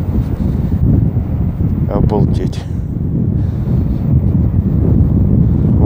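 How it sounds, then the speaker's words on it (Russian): Steady wind buffeting a windscreen-covered microphone by a lake, a low continuous rumble throughout, with a person briefly exclaiming partway through. "Небольшой ветер присутствует, но стоит у меня ветрозащита."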